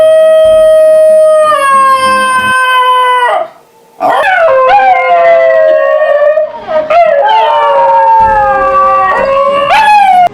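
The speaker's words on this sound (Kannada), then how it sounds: "ಬಸಂಜಿಗಳು ಹೆಚ್ಚು ಉತ್ಸಾಹದಲ್ಲಿದ್ದಾಗ ಬರೋ ಎಂದು ಯೋಡ್ಲಿಂಗ್ ಥರ ಅನನ್ಯ ಧ್ವನಿಯನ್ನು ಹೊರಡಿಸುತ್ತದೆ" A Basenji dog gives a loud, close yodel-like howl, long wavering sliding tones that break off for a moment and then resume, with no other sound behind it.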